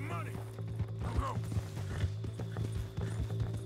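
Horse hooves galloping in the Red Dead Redemption 2 video game, a steady rhythmic clip-clop of hoofbeats over a low rumbling game background, with a voice speaking over it at moments.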